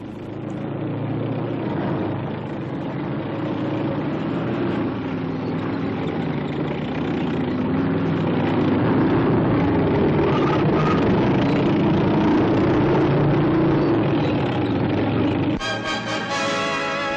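Modified M4 Sherman tank with a 76mm gun maneuvering, a loud sustained heavy engine roar with a continuous low mechanical drone, steady throughout before an abrupt change near the end; no talking.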